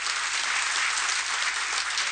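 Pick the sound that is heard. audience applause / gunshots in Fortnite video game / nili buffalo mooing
audience applause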